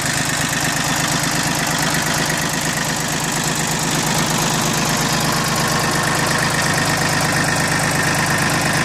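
A Mitsubishi MT1601D four-wheel-drive tractor idles nearby, its engine running smoothly in a loud, steady, even chug that holds for the whole stretch with no voices.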